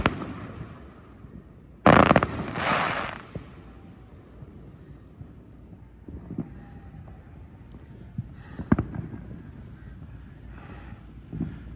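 Independence Day fireworks finale heard from a distance: one sharp loud burst and crackle near two seconds, then scattered softer pops and booms over a low, breezy outdoor background.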